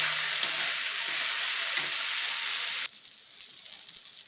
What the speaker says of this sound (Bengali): ডিম ভাজার তেলেই কিন্তু আমি বসিয়ে দিয়েছি পেঁয়াজটা আর মশলাটা